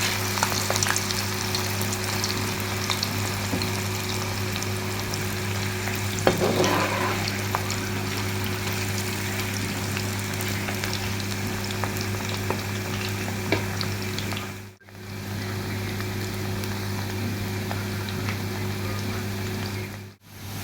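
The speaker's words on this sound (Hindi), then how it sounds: "मसाला लगाए हुए चिप्स को अब हम ऐड कर लेंगे घी के अंदर डाल देंगे" Masala-coated potato chips deep frying in hot ghee, a steady dense bubbling crackle like rain that holds evenly for a long stretch, with a couple of brief dips and no voices.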